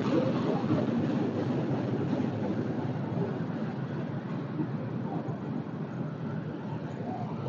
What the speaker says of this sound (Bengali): আপনারা দেখতে পারেন এই যে একটা ট্রেন আসছে